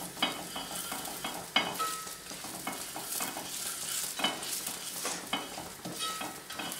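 Cumin frying in oil with red chili powder and turmeric for matar paneer masala, sizzling steadily close by while a spoon stirs and scrapes the pan in repeated strokes.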